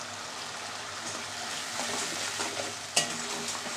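Spice paste with turmeric powder, salt and a splash of spiced water being stirred and fried in a pan, giving a steady close sizzle with scraping strokes and one sharp clank near the end; no talking.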